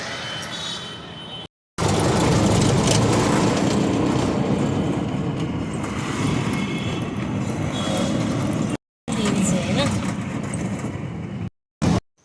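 A loud, continuous engine rumble and road noise from an auto rickshaw riding through busy Kolhapur traffic, broken by a few short cutouts.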